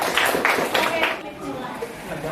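Classroom of children clapping in a short burst of four or five claps, fading after about a second as talk continues underneath.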